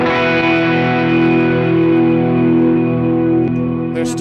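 Electric guitar played through a Walrus Audio ACS1 amp simulator on its Bluesbreaker setting, with a sustained, mildly overdriven chord ringing loud and steady with a wash of reverb, then a fresh strum near the end.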